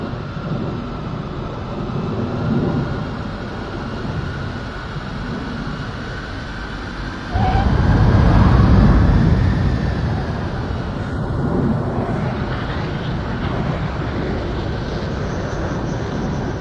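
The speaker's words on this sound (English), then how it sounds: "This exercise has the plane landing, then taking off without stopping." A jet aircraft performing a touch-and-go landing and takeoff at an air show in the video game Ace Combat 7, a sustained roaring engine drone with a surge of heavy rumble midway, then continuing thrust and wind rush.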